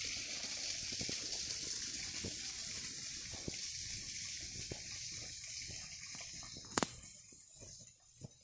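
Water flows and trickles past a small water wheel at Aiken State Park, a soft continuous wash with faint footsteps and occasional light knocks.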